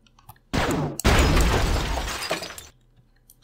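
In the shooter game Quake 2, a glass pane shatters loudly, with a sharp burst followed by about two seconds of crashing, tinkling debris that fades out, framed by quiet game ambience.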